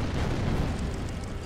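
A cannon is blown up in the World War II strategy game Order of Battle, a brief, loud, low rumbling blast that stays dense and heavy for over a second with no talk over it.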